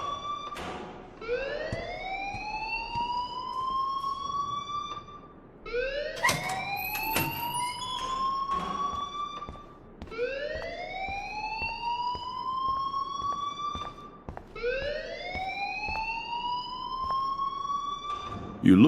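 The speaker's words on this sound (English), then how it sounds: "please turn off that alarm since that's your job" A fire alarm in the video game Life Is Strange sounds in four repeated rising whoops, each sweeping upward and holding, loud and steady with brief gaps between cycles.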